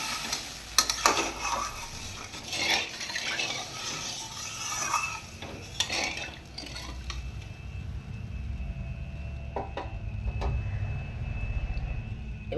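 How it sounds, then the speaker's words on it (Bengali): Water poured into a pan of cooked-down spice paste for a pabda fish curry, giving a loud steady sizzling hiss and bubbling with a few sharp clinks near the start. "এবার আমি জল দিয়ে দিচ্ছি"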